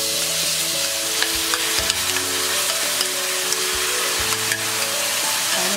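Tomatoes frying in a pan for tomato rice, a loud, steady sizzle filling the whole stretch with occasional low scraping strokes as they are stirred, close up and without talk.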